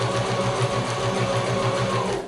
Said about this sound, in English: I'm just sewing 5/8 inch in from the fold line